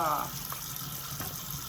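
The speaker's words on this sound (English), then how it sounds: "You want to make sure that you rinse off some of the excess dirt" Tap water runs briefly and faintly as dirt is rinsed off fresh vegetables, with a soft splash at the start and a low, muffled wash after it.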